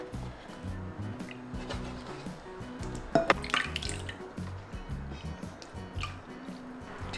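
Sliced potatoes rinsed in water, with soft drips, squishy splashes and a brief burst of handling around the middle, fairly quiet and close, over a faint background hum and no speech.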